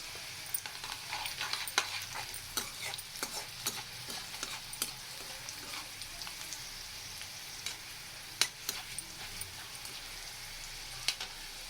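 Urad dal crackles and sizzles in hot oil for a fenugreek leaf stir-fry, with dense steady frying hiss and frequent sharp pops and spits throughout, close and moderately loud with no talk.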